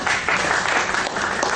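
Brief burst of audience clapping at an open mic comedy show, a short steady patter of many hands lasting under two seconds.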